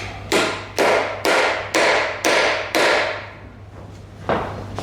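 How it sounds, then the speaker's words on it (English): Six sharp metallic taps of a socket struck against an engine part on a Mini Cooper S during engine strip-down, evenly spaced and close, each ringing briefly, followed by a pause and one final tap over a steady low hum. "we're just gonna tap it and then try to pry it off"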